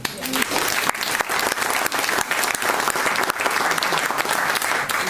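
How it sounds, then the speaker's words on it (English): A crowd claps steadily and enthusiastically, a dense wash of applause filling the space without pause. "I'd love to get another round of applause for those guys"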